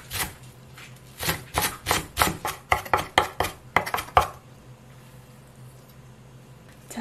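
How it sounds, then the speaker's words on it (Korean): A knife chops green onion and onion finely on a cutting board, a rapid run of a dozen or so sharp, close taps that speeds up, then stops, leaving quiet kitchen background. "대파는 한 반 뿌리 정도만 잘게 다지고요"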